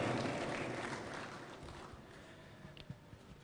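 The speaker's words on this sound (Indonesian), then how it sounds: "Sekali lagi tepuk tangan kepada para senior kita, Majelis Tinggi Partai Demokrat" Audience applause at a Partai Demokrat event, a dense wash of clapping that starts loud and gradually fades over a few seconds, with a few scattered late claps near the end.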